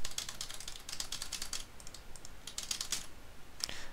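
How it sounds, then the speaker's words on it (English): Fingers type on a computer keyboard in short, quick bursts of crisp, close clicks with brief pauses between them, recorded quietly with no talking. "And so we can literally just type."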